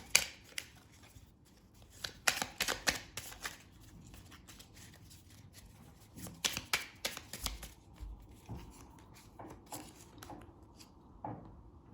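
Oracle cards are shuffled by hand, with bursts of quick riffling and flicking at close range, separated by pauses and a few soft taps, and no talking.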